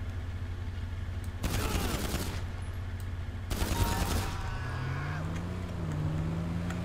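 Two bursts of rapid gunfire crackle out of the shooting in GTA 5 Online on the coast, each about a second long, with the first volley a little sharper and a steady engine drone underneath.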